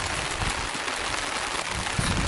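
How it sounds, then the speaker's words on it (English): Steady rain falls at a campsite in the Algonquin Highlands, a dense, even hiss of drops on surfaces with no break, close by and fairly loud. "Rain just rain."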